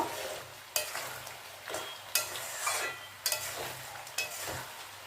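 Chicken is stirred in a pan with cumin powder and garam masala for a spicy Bengali chicken kosha, giving a steady sizzle broken by about five scraping strokes of the spoon against the pan.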